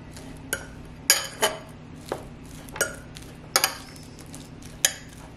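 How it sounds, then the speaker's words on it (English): A ripe banana is mashed in a bowl, heard as about eight sharp clinks and taps of a utensil against the dish, spaced irregularly over a quiet steady hum, with no talking. "So a banana it is. And we're just going to mash that down."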